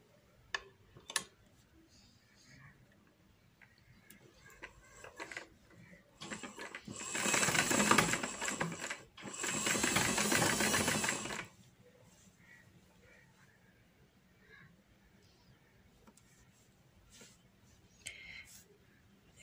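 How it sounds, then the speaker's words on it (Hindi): A sewing machine stitches a strip onto trouser fabric in two sustained bursts of fast, loud running mechanism, separated by a brief pause, with quieter clicks and handling noise before and after. "इस पट्टी को सिलाई लगा देनी है।"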